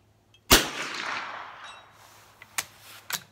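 Winchester 75 rifle firing Blazer ammunition at a target 200 meters away: one sharp, loud shot with a decaying echo, followed by two fainter distant cracks like impacts.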